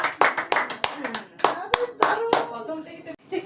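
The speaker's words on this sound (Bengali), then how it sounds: "এর জন্য হাততালি মারো সবাই" A burst of hand clapping from several people at a bottle sequence party game, irregular claps over several seconds, with voices talking and cheering underneath.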